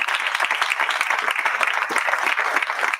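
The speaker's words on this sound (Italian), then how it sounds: "La prima è Eloise Rene Serpi, vorrei che le faceste un applauso." A festival audience applauds steadily, dense clapping from many hands filling the whole stretch at moderate loudness.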